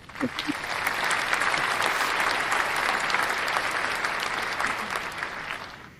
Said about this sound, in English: I'm going to do this thing here where I can give them a crowd applause